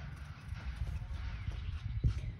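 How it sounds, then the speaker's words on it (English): Cows approaching over muddy ground make soft, irregular hoof thuds and shuffling steps, faint and fairly close, with one heavier thump toward the end. "Cows are coming."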